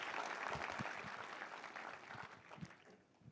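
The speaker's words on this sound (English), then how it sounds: "A big round of applause for our World Cup heroes who are right here with us today." Crowd at a Chennai Super Kings celebration event claps for the 1983 World Cup cricket heroes, a fairly faint, dense patter of applause that gradually tapers off toward the end.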